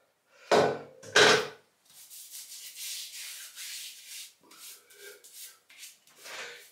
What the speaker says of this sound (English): Just apply it to the face and then rub it into the face.